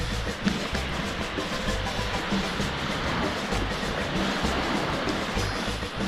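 Water rushes continuously near a waterfall on a roadtrip in Guatemala, a broad steady roar at moderate distance with no distinct breaks.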